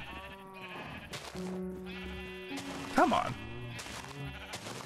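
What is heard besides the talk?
sheep bleating in the video game Minecraft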